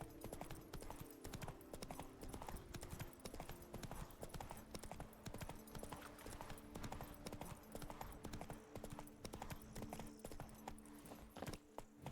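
Horse hooves clip-clop steadily in The Witcher 3, a brisk, even rhythm of hoofbeats running the whole time over a faint sustained game tone.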